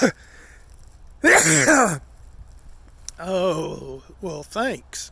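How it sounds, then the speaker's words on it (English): A person sneezes loudly once, a sharp burst after a short quiet build-up, then a voice speaks briefly at close range. "Hang on, folks, I have got to sneeze."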